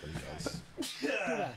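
A single sharp sneeze bursts out partway through during a multiplayer game voice chat, close and loud, with people talking before and after it.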